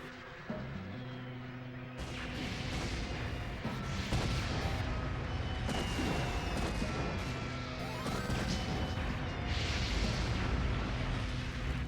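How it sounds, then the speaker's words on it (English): Carpet bombing in a video game: a bombardment of heavy blasts and crashing impacts rolls on continuously, loud and dense, with bigger explosions rising at intervals and no talk. "The most expedient way to flush a rat out of its nest is with a little bit of carpet bombing."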